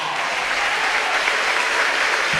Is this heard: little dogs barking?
no